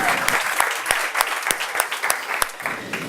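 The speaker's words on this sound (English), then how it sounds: "A big applause for Gabriel" Audience applause at a physics science show on stage, starting as a fairly loud, full wash of claps and thinning into a few distinct, spaced-out hand claps.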